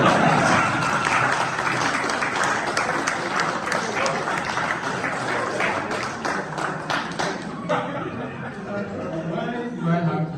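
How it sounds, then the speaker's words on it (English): An audience claps at an open day of a Presentation school community, a busy mix of hands clapping with chatter and light laughter, easing off partway and giving way to murmuring voices. "Please clap for us."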